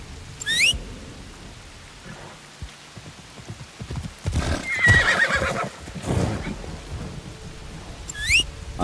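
Horse in Assassin's Creed Shadows whinnying twice at the start and end, with hoof clip-clops and rumbling storm-like noise in between, set amid thunder and rain.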